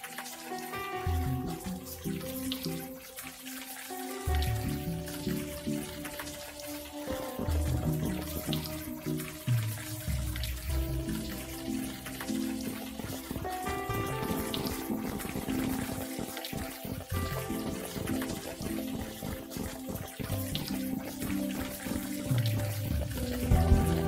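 Rain falls steadily in the video game Unavowed, a constant watery hiss that runs throughout, mixed with layered game music and ambience.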